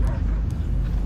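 A dog barks and whimpers in a Guardians of the Galaxy video game scene, heard through a dense, rumbling layer of game sound and ambience.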